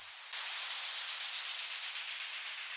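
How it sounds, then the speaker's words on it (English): A white noise sweep serves as a transition effect in an Afro House track, starting abruptly after a brief pause and then hissing steadily while fading slowly. It plays alone with no voices. "white noise"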